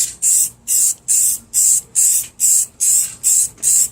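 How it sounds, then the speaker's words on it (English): A spray can laying paint onto a car panel in short, regular bursts, about nine even hisses in a row with brief gaps between, close and loud with no talk. "And you can spray this."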